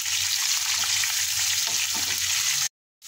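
Green chillies frying in a pan on a low flame give a loud, continuous sizzle with faint stirring, then a sudden cut to silence before the sizzle returns.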